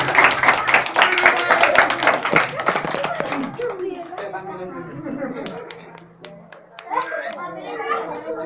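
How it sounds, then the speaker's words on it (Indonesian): Young audience at a birthday party clapping after a coin magic act, a dense burst of close applause that fades after a few seconds into children's chatter and voices. "kasih tepuk tangan dong"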